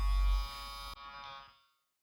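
Electric hair clipper with no guard attachment running during a fade haircut, a close, steady buzzing hum that drops off partway and then fades out.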